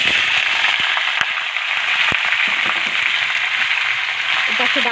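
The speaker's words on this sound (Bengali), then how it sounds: "তেল দিয়ে চিকেনটা একটু ভাজি করে নেই আমি" Chicken fries in oil over a clay stove, a steady broadband sizzle with scattered crackles and pops running throughout, fairly close and continuous.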